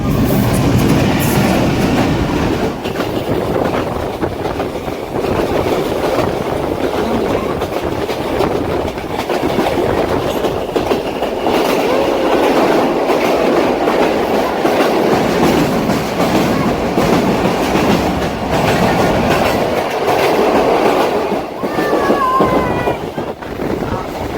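A train runs along a single track into a tunnel on a northbound journey from Karachi to Abbottabad in Pakistan. It makes a loud, continuous rumbling roar with a faint clatter of wheels on rails, heard close up from on board.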